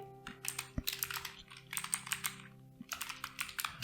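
HTML code being typed on a computer keyboard: quick runs of close, crisp key clicks in irregular bursts with short pauses between, over a faint steady hum.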